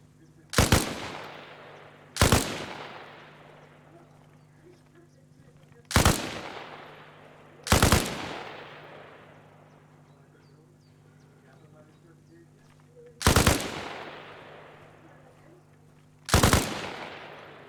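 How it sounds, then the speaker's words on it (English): Machine gun on a training range in Arma Reforger, rested on a firing-line table with its bipod unfolded. Six loud, close shots come at irregular intervals, each with a long, reverberant decaying tail. "Rest her on the table at the firing line and unfold the bipod"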